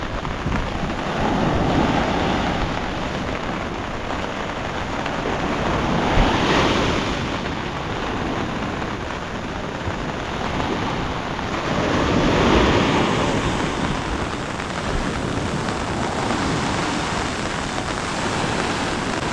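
Heavy surf rolls in at a beach on a wet, rainy morning, a dense continuous roar of breaking waves with wind buffeting the microphone and rain hiss blended throughout, no voices present.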